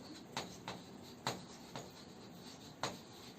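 A pen scratches across paper in a quiet room, giving five short, separate strokes spaced unevenly over a few seconds, soft and close, with no voices.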